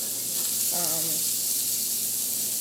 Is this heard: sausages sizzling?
yes